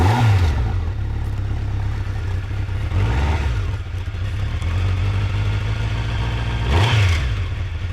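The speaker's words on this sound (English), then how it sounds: "Let's have a listen to the engine." A Honda Nighthawk 650 shaft-drive motorcycle engine starts with a key and button, then idles steadily with several sharp revs rising and falling, close and loud, with slight cold cam chain rattle.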